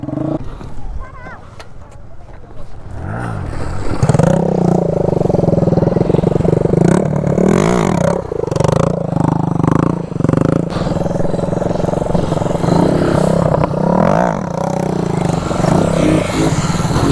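A Bajaj CT 100 motorcycle revving hard during wheelie stunt training in Salem, a steady, rough engine roar that swells and holds at high revs, close by, with voices talking over it.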